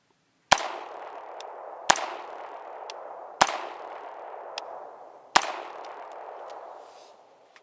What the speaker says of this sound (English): So initial, first time shooting a Scar.